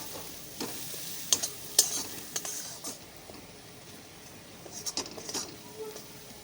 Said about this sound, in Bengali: এই সব মশলাগুলোকে ভালো করে একটু মিশিয়ে নেবো